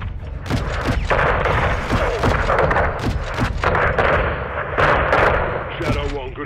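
An airstrike in the video game Call of Duty Modern Warfare II hammers a greenhouse with a rapid string of heavy impacts and booms, loud and close, mixed with gunfire and voices.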